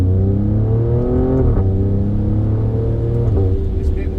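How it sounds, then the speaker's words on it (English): A twin-turbo BMW pulls hard through the gears on a road, its engine note climbing in strong, loud surges with short breaks at each shift, up close and without talk. "This BMW is just trying to go really fast"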